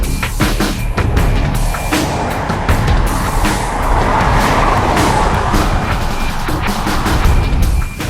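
Jaguar XJ saloon with a 3.0 V6 diesel engine driving, a steady, loud broadband rush of engine and road noise that holds continuously throughout with little variation.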